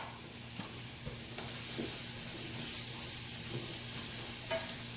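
Mushrooms and onions sauté in a pan for a chicken fricassee, a steady soft sizzle and hiss punctuated by occasional scrapes and knocks of stirring, with no talk.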